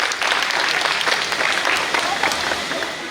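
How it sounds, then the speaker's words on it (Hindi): Lively applause from guests at an engagement ceremony after a dance, a dense burst of clapping that stays loud and steady for a few seconds, with a voice faintly over it. "एक बार जोरदार तालियां दोनों सालियों के लिए।"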